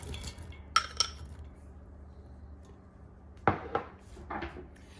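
Chopped onion and other ingredients dropped into an Instant Pot for great northern beans with smoked sausage and ham hocks: a few sharp clinks and thuds from pot and utensils, spaced apart over a quiet room hum with no talking.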